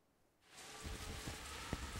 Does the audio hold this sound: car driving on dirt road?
no